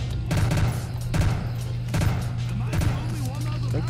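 Rapid bursts of auto pistol gunfire in World at War Zombies, several short volleys of sharp shots over a steady low game drone.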